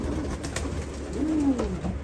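Soft racing pigeon coos rise and fall over a steady background hum, a low rolling call near the middle with a few fainter coos around it.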